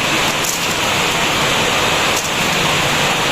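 A pot of water at a rolling boil for cooking pasta gives a loud, steady broadband hiss and bubbling, close and continuous with no talk.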